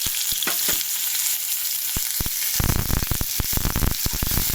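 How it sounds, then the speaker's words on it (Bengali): Onion hits hot oil seasoned with cumin, a loud close sizzle that swells into vigorous crackling and popping, with sharp spatter bursts throughout. "তো পেঁয়াজ দিয়ে দেওয়া তেলে।"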